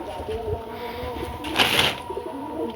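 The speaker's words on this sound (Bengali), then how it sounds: "এইগুলো আমার সব কবুতর।" Pet pigeons coo in soft, repeated low calls close by, with a brief burst of wing or rustling noise midway and faint voices in the background.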